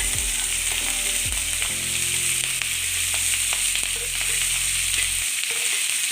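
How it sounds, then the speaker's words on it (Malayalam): Green chillies, onion and curry leaves sauté in a pan for a yam dish, a loud, steady close sizzle with scraping stirs, a low hum underneath that drops out near the end. "എന്നിട്ട് ഇനി നമുക്ക് പച്ചമുളക് ചേർത്ത് സവാള കറിവേപ്പില"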